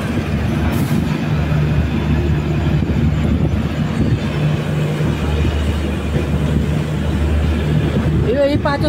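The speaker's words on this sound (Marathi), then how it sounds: "लोकमान्य टिळक मडगाव एक्सप्रेस पनवेलला पोहोचलेली आहे" The Lokmanya Tilak–Madgaon Express pulls in at Panvel station with a steady, loud low rumble of carriages and wheels throughout, a faint squeal near the end.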